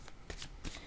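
Oracle cards being shuffled by hand in a few quick papery riffling bursts, close and soft, with no talking.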